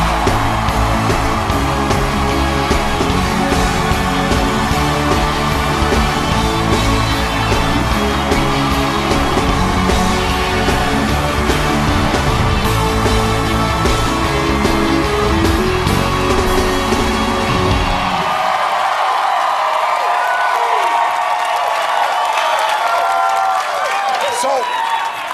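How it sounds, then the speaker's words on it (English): Studio audience on a late-night talk show cheers and applauds loudly for Ashley Tisdale, a dense sustained roar of clapping and shouts that cuts off abruptly near the end. "Everybody give a big cheer."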